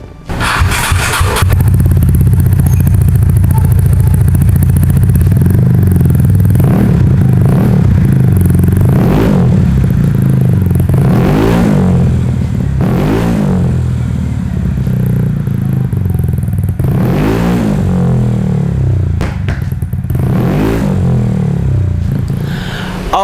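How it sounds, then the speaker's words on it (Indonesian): Shijiro Vyper aftermarket exhaust on a motorcycle, run without its dB killer, revving loudly and close in a series of sharp rising blips over a steady rumbling idle, with some rattling clatter between revs. "Nah sekarang kita nyalain gimana suaranya Cigiro Viper ini tanpa DB Killer."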